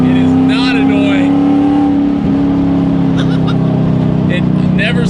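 Roughly twenty-year-old Ford Mustang V8 with an X-pipe and full straight pipes, a loud steady engine drone that dominates the clip with a slight dip partway through.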